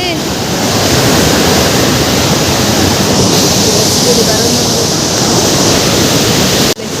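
Constant loud rush of flowing water, a broad roaring wash with no breaks, heard close up.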